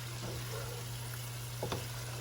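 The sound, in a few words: frying chicken pulao ingredients in a pan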